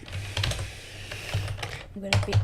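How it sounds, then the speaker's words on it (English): Steady clattering keystrokes on a computer keyboard run throughout at a moderate pace, with a voice speaking over part of the typing. "I'm slow at typing."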